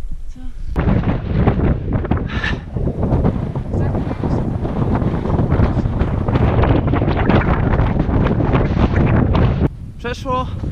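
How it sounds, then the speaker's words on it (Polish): Strong wind gusting hard at a high-altitude campsite in the Pamir mountains of Tajikistan, a loud continuous roar buffeting the microphone for nearly the whole stretch before easing slightly at the end. "nie wiem, czy zdążymy przed tym wiatrem, który tu idzie"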